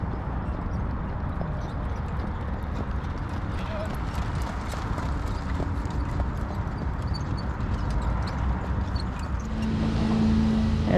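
Sulky harness racing horses trot past at a racetrack, their hooves producing a steady, rapid clip-clop that stays clear and fairly close, with a voice speaking over it.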